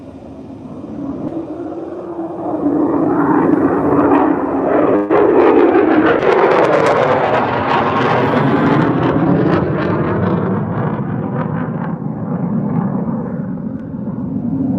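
An F-35 fighter jet passes overhead near Luke Air Force Base. Its roar swells quickly into a loud, sustained rushing thunder that lingers for several seconds before slowly fading, with wind buffeting the microphone outdoors.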